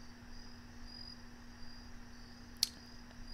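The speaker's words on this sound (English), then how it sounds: "Can you really hear the crickets?" Crickets chirping outside at night, a faint steady trill that runs throughout alongside a low constant hum, with one brief click near the end and no voices.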